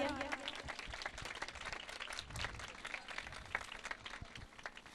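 Loud, sustained clapping from a church audience in Lahore, many hands beating in a dense, fairly even wash with faint voices mixed in near the start.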